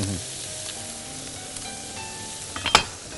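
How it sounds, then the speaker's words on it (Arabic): Chicken liver and wings fry in a pan with a steady close sizzle, and a stir near the end adds a short burst of scraping and clatter. "نرجع نقلب"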